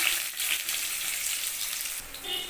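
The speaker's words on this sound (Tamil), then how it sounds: "ஒரு கைப்பிடி அளவு சின்ன வெங்காயம் போட்டு வதக்கிக்கிறேன்" Small onions go into a pan of hot oil with fennel and fenugreek seeds, giving a close, steady sizzle with light stirring scrapes throughout.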